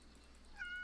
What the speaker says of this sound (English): More meow.